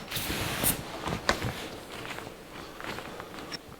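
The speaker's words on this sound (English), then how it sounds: "we'll spray up this vinyl with a vinyl cleaner" Vinyl cleaner sprayed onto a vinyl panel from a 1982 Jeep CJ7, several short hissing bursts with handling noises between them, faint and close, with no talking.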